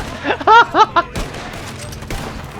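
Gunfire in the cowboy video game Red Dead Online: a few sharp, ringing tonal bursts come in quick succession, then a rougher spread of shots and booms follows.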